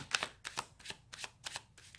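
Tarot cards are shuffled and drawn from a deck in quick, soft riffling bursts, about six short papery flutters close by and quiet, with brief gaps between them.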